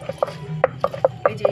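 Peanuts being coarsely crushed for a spicy chatpata peanut snack, heard as about seven short, sharp, close knocks in a quick, slightly uneven rhythm with nothing else over them.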